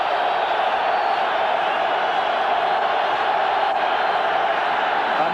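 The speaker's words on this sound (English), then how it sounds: "And the crowd wakes up again." A large stadium crowd at a 1995 NFL game between the San Diego Chargers and Oakland Raiders gives a steady, dense roar of cheering that holds at an even level without letting up.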